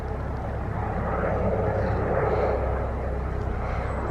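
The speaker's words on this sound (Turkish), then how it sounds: "Uçak." An airplane flying overhead outdoors, a broad, steady engine roar that fills the whole stretch at fairly close range and swells slightly in the middle, heard on its own.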